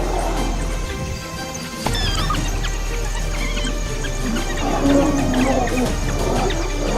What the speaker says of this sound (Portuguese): O rugido desesperado de Alpha ecoou pelo campo, direcionado às leoas que jaziam não muito longe.